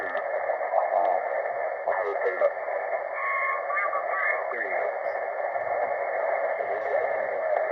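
A strong station comes in on a small, cheap Xiegu G106 QRP HF ham radio, with band-limited, tinny voice audio that is clear and steady, and faint static around the edges.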